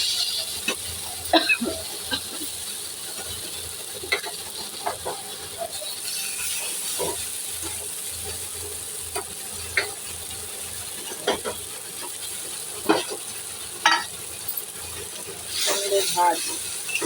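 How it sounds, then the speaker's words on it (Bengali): A potato mixture seasoned with turmeric and spices sautés in a pan for vegetable chops, a soft continuous sizzle broken by scattered spatula scrapes and stirring clicks, with occasional quiet voice sounds. "ভালো করে এটাকে কষিয়ে নেব।"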